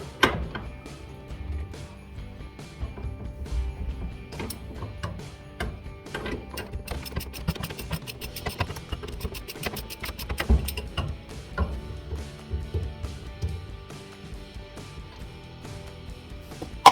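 Ratchet or wrench work to remove the nut on a 1966 Mustang steering wheel, close metallic clicking and ratcheting in quick bursts with clinks and brief pauses between them.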